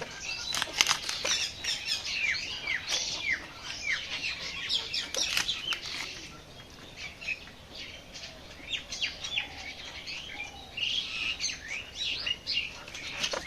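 A chicken flaps its wings hard while being slaughtered in a village kitchen for a Hyderabadi biryani. Bursts of flapping are scattered through the clip, with chirping birds close by.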